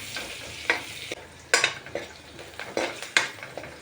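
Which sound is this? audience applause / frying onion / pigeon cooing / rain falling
frying onion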